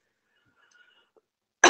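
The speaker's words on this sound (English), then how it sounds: "Again, I apologize for my coughing." A single sudden cough breaks in near the end of a long silence. It is close and fairly loud, heard during a presentation on building a search-friendly website.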